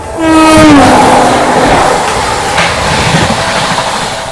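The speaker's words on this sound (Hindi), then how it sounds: "तो अभी हमारी यहाँ पे क्रॉसिंग हो रही है नई दिल्ली राजेंद्र नगर टर्मिनल पटना तेजस राजधानी एक्सप्रेस के साथ।" A Tejas Rajdhani Express train passes close by at a crossing, its horn blaring in a loud long blast at the start, followed by the steady rumble and rattle of the passing coaches.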